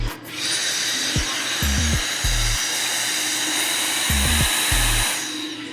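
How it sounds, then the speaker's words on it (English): A hair dryer with a nozzle attached runs with a constant, close airy whir, broken by a few short clicks and handling knocks. "I'm gonna put this nozzle on it right here. Let's turn it on."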